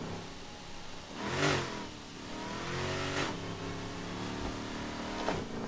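A loud car engine revs in sharp bursts near the listener, with a strong surge about a second and a half in and further throttle blips over a steady, rough idle.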